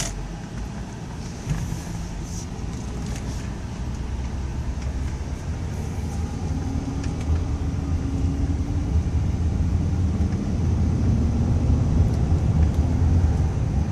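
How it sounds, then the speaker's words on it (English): A car drives past on a busy road, heard from inside a quietly cruising vehicle as a steady low road rumble that slowly swells louder toward the end. "Let this car go by."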